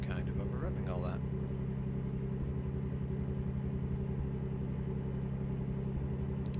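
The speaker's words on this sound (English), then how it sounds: "the sound of that engine is kind of pulling at max RPM" A truck engine in American Truck Simulator drones at maximum RPM, a steady mid-pitched rumble that holds constant throughout while someone talks briefly at the start.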